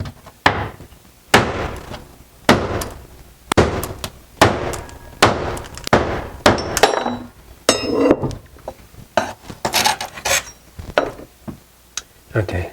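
A hammer strikes tiles off a kitchen backsplash in a series of sharp, loud impacts about a second apart, some with cracking and clattering debris, up close with no talking.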